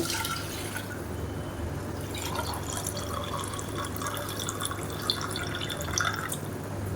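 Soaking water from rice being poured into a pot for mushroom biryani, a faint, quiet trickle and splash of liquid lasting several seconds against low background hum.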